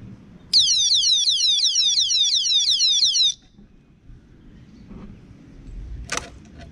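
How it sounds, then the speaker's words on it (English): A motorcycle disc brake alarm sounding a loud, rapid warbling electronic beep burst for about three seconds up close, then stopping, followed by quiet handling noises. "That was the first beep, and then if I do it again, it's gonna do it even more."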